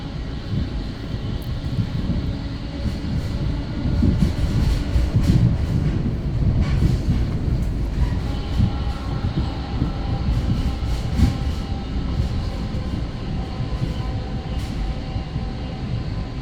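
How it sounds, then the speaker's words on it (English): Steady rumble and rattle of an Exo commuter train in motion between Dorval and Lucien-L'Allier stations in Montreal, heard from inside a car, with clacking wheels and a low droning locomotive engine throughout. "You hear that beautiful locomotive from here."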